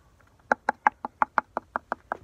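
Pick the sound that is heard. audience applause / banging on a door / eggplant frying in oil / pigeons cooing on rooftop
banging on a door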